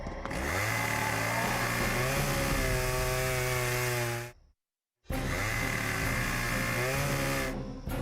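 A chainsaw runs loud and close, its buzzing engine rising and falling in pitch, cutting out briefly for about half a second before roaring back at full strength.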